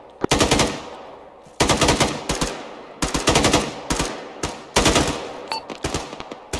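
Bursts of automatic gunfire in the ArmA military video game, several sustained volleys of rapid shots separated by short pauses, loud and close.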